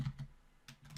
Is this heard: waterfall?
no